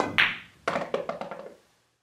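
A cue ball strikes other balls on a pool table with new cushion cloth: one sharp click, then a quick run of clacks and cushion thumps that fade out within a second and a half, close and alone.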